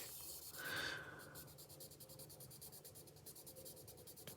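Abrasive paper lightly sanding varnish on a 1/24 Italeri BMW 320 Group 5 model car body: a faint, fine scratchy rub swelling briefly, then quick rhythmic back-and-forth strokes repeating close by.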